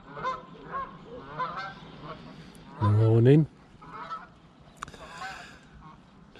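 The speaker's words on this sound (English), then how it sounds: "Just got my wake up call from all the Canada geese that are on here" Canada geese honking on a lake at dawn, a few distant calls scattered through quiet then one loud, close, drawn-out honk midway, with a brief spoken greeting near the start.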